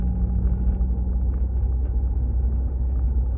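Deep, throaty exhaust from a 2015 Subaru WRX with an Invidia R400 aftermarket muffler rumbles steadily at close range, a low burbling drone with no voices over it.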